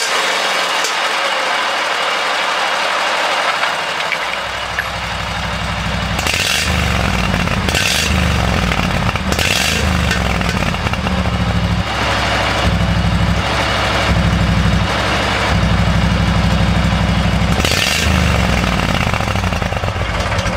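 A motorcycle engine on test run in a garage, running steadily and loudly close by for the whole stretch, with a deep even drone and occasional brief revs.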